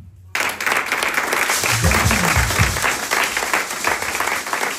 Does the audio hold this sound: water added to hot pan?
no